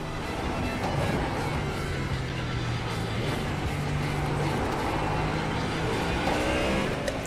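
A racing car engine drones steadily during Bathurst practice laps in a sim racing video game, a continuous moderate roar with slight pitch changes and no talk over it.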